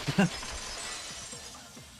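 A vase shatters in the game Danganronpa 2: a short, sharp crash of breaking ceramic right at the start, followed by a faint scatter of tinkling debris under a quiet background hum.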